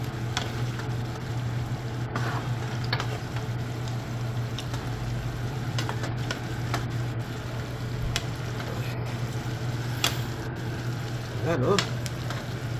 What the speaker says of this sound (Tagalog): Haluin ng konti para lumasa pati yung itlog.